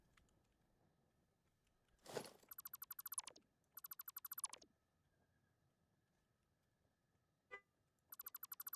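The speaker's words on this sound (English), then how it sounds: "Can you guys hear those beeps going off? Holy, somebody put on their alarm." An alarm goes off somewhere in the background, giving several bursts of rapid, faint high-pitched beeps separated by pauses, with a brief thump before the first burst.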